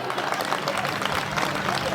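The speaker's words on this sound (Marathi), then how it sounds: "काय राजा टाळ्या वाजवत आहे" A crowd claps along at a Home Minister stage show in Shindkheda, Dhule, a steady dense patter of many hands mixed with loud ambient chatter and event noise throughout.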